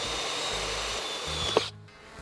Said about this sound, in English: So now it's just a matter of drilling a hole that has the same diameter as the bolts